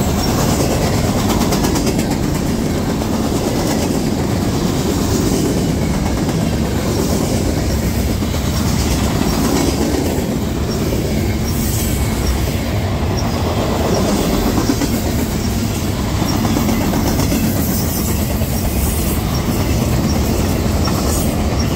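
A CSX Dash 8 diesel locomotive leads a freight manifest train past in Berea, Ohio; a loud, steady rumble of rolling freight cars with clattering wheels continues for over twenty seconds with no talk.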